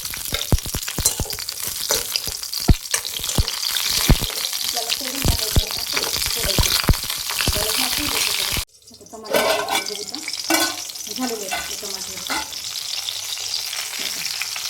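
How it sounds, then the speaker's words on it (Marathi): Tomatoes roasting in oil in a kadhai sizzle loudly with frequent sharp crackles and stirring clatter, then a brief pause before a softer, quieter sizzle resumes. "आता इथं कढई ठेवलेली आहे वर तपायला आणि याच्यामध्ये टाकून देते टमाटे मला चांगलं भाजून घेते तेल टाकून भाजायचं"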